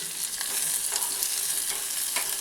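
Chopped onion sizzles and fries steadily in hot oil in a pan, with occasional soft stirring scrapes, close and continuous with no talking.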